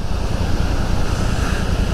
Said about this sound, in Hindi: तो पानी का फ्लो और तेज हो गया वहाँ से